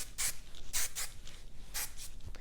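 Hairspray hisses from a can onto freshly curled hair in several short bursts, close and fairly quiet, with brief gaps between the sprays.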